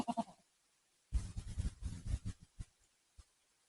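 Nigerian Dwarf goats bleating outdoors on a sunny day, a short cry followed after a pause by a rapid run of overlapping bleats and calls from several animals, fairly close and moderately loud, tapering into a few isolated sounds.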